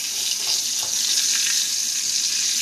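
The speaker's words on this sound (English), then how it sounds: "They're sizzling." Hash browns sizzle in a frying pan with a steady, close crackling hiss, continuous and without talk.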